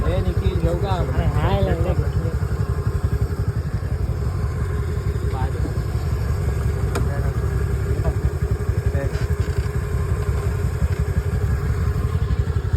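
A scooter rides out of Sanjay Gandhi National Park in Borivali, Mumbai. Its engine runs with a close, steady mid-pitched hum throughout, and a person talks briefly near the start.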